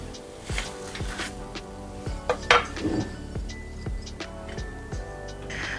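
Aloo-pudina paratha lifted off a pan on a switched-off gas stove gives a few light metallic clinks and scrapes of utensil against pan, with soft kitchen clatter and background music.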